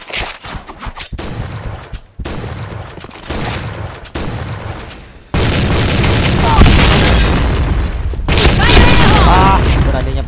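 A zombie-slayer video game fills the space with loud, dense combat: heavy booms from bombs and bursts of rapid gunfire, broken by sudden cuts, with a voice talking over the sound effects.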